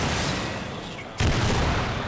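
In Warframe, an arrow from the Lenz bow detonates midway with a sudden, loud burst that breaks out of steady noisy game ambience and then settles into a sustained rumble.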